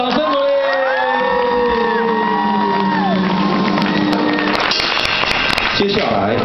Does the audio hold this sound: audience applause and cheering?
yes